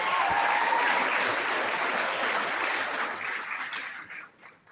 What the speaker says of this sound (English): Give Anya a round of applause,